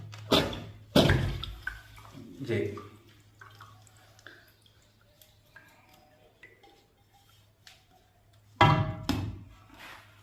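Water trickles and drips out of a clay pot (handi) in a few short splashy bursts near the start and again near the end, with quieter small drips and clinks between and a brief spoken word.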